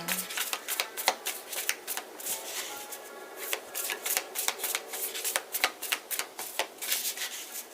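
Tarot cards being shuffled in quick, crisp riffling bursts, close up and repeated three times with brief pauses between them.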